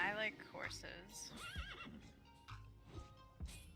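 Horse whinnying in World of Warcraft, a bright wavering neigh near the start followed by hoof clip-clops, partly under continuous game sounds and a man's speech.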